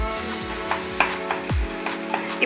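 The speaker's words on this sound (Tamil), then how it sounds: "தக்காளியில் உப்பு சேர்த்திட்டு நல்லா வதக்குங்க." Tomatoes with salt sizzle and get stirred in a pan for egg biryani, a steady close frying hiss broken by several light scrapes and clinks of the spoon, with no talking.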